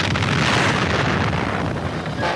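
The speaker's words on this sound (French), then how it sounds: "La France, après 8 années de recherche, teste sa première bombe nucléaire en Algérie, dans le sud du Sahara" A French atomic bomb test explosion in the Algerian Sahara in 1960, heard as a loud, sustained roaring rumble with a broad wash of noise throughout, fading slightly near the end.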